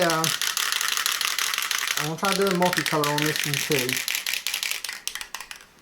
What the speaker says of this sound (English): now I'm just going to spray paint it